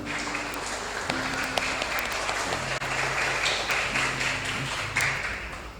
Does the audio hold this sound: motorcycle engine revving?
no